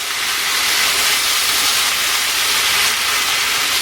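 Thin-sliced cumin beef sizzling loudly in a hot pan, a steady, dense hiss that holds evenly from start to finish with no talking.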